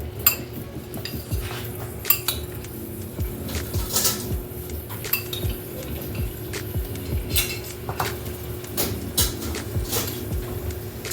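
Canned pineapple chunks are spooned into a cake pan, with repeated metal spoon clinks and scrapes against can and pan plus soft wet plops, irregular and close; no talk.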